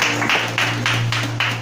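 Church congregation claps hands in a steady rhythmic beat, about six clear bursts of clapping over a low sustained hum, close and moderately loud.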